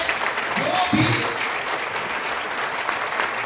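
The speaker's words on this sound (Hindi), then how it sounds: "मैं चाहूंगा एक बार जोरदार तालियां मिस्टर बाली सर के लिए" Audience applause for Mr. Gautam Bali, the managing director, at a speech event in Ranchi: a steady, dense wash of clapping from a crowd that fills the whole stretch at even loudness, with a brief voice near the start.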